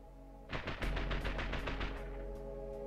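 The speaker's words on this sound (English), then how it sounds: "Let's do a pack of fireworks." Rapid crackling burst of a fireworks pack going off in the RPG Maker game Swim Racer X, a quick rattling string of sharp pops lasting about a second and a half over a steady low hum, with no talking.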